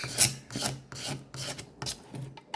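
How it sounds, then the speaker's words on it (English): Sandpaper rasps by hand across 3D-printed PLA plastic in about six short, scratchy back-and-forth strokes, close and fairly loud, with brief gaps between passes. "Now I've tried sanding PLA, and look, I've gone through so much sandpaper, it's ridiculous."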